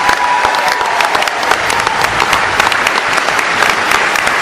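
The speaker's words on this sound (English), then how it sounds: "Give them a round of applause." An audience applauds sheriffs at a political gathering, loud sustained clapping filling the whole stretch with no voices over it.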